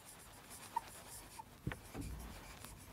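Chalk or a marker writes on a board during an accountancy lesson, faint scratchy strokes with a few small taps, close but quiet over a low room hum.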